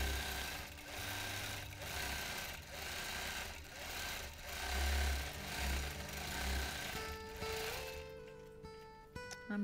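A sewing machine stitches freehand quilting in a steady, fast mechanical whir with rhythmic pulses, stopping near the end, close and alone.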